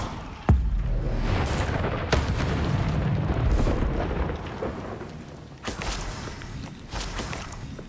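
Fire spell blasts in the video game Hogwarts Legacy, a sharp impact followed by deep rumbling booms and a few more bursts, loud and continuous with no voices.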